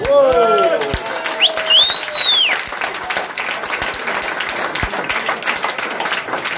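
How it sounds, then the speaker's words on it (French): An audience applauds a live orchestra in a steady, dense wash of clapping that stays loud throughout, with a few cheers and whistles early on. "j'aimerais que vous puissiez encore applaudir les musiciens de Live Orchestra"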